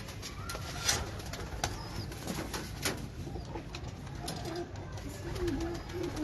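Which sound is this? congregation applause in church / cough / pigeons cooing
pigeons cooing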